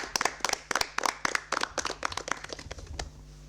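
Applause for a quiz competition group rings out as dense, close clapping from a crowd, steady and energetic for a few seconds with no talking over it.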